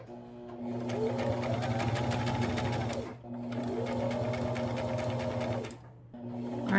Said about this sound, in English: drop your needle, and then start sewing